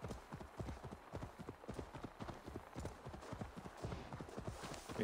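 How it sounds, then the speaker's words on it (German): Horses galloping in a race in Assassin's Creed Valhalla: fast, steady hoofbeats drumming close by, fairly quiet, with a faint voice underneath. "Wir reiten um die Wette."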